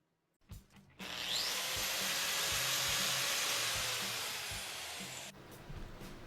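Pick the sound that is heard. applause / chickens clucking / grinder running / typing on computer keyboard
grinder running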